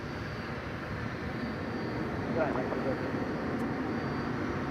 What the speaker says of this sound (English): Here's our latest arriving 757.